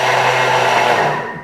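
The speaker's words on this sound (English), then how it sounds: "I can use the turbo mode function here to give it a quick mix." A Thermomix whirs in turbo mode with a loud, steady blender-like motor roar, mixing egg and other ingredients in a short burst that tapers off at the end.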